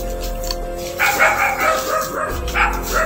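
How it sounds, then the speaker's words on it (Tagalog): A dog barks in quick yapping bursts nearby, loud and clear over a steady low rumble of background noise. "May aso ah."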